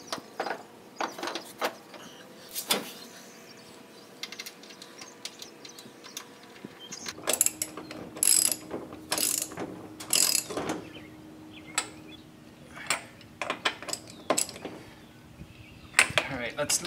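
A ratchet tightens the pulley bolt on a Troy-Bilt riding zero-turn mower in bursts of quick clicking, starting faint and then growing louder, with brief pauses and someone speaking in between.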